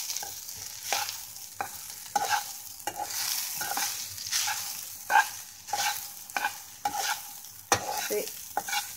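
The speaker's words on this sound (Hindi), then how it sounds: "और अभी इसे स्टीयर करना है अच्छी तरह से." Sabudana khichdi stirred in a little ghee in a pan, a soft continuous sizzle broken by regular spoon scrapes and clinks against the pan, close and moderately quiet.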